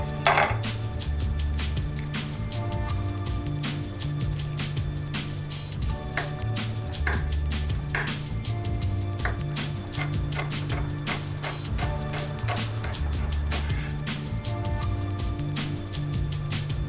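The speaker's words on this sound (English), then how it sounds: "We start by cleaning and slicing some garlic." A knife slices garlic on a wooden board, giving a steady series of sharp, close taps and clicks that repeat at an even rhythm with no talking.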